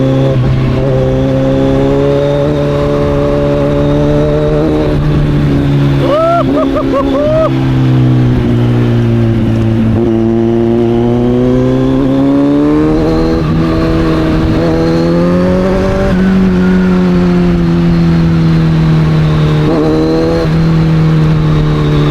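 A Kawasaki Z900 motorcycle engine drones loud and near on the road, its pitch climbing and dipping through repeated revs over a long stretch, with faint talking in places.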